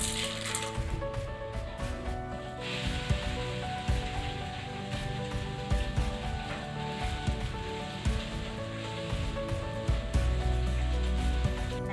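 Fenugreek seeds, chana dal and urad dal sizzle while being sautéed in hot oil for puli inji, a steady close crackle and hiss with small clinks of a stirring spoon against the pan.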